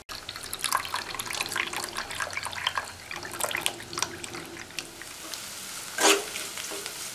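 Water is added to tamarind and mixed by hand for a brinjal gravy, producing continuous wet squelching and sloshing with small splashes, close by, plus one louder splash near the end.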